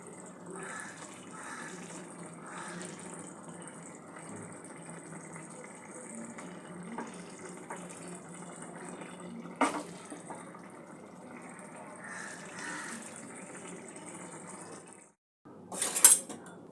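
Tilapia curry made with mustard-poppy paste in mustard oil is poured from a pan into a bowl, giving faint clinks and scrapes of cookware under a quiet hiss, with a louder metallic clatter near the end.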